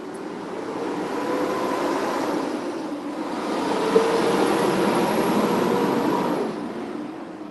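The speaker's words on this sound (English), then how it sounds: "Every truck wants to drive by me today in the loudest way." Loud trucks passing on a New York City street at night, a steady broad roar of heavy traffic that swells and holds close by, with no talk over it.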